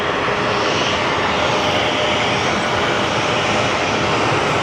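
Airplane engine roaring steadily at Phoenix Sky Harbor airport on a rainy day, a loud, continuous broadband drone holding near and constant throughout with no talk.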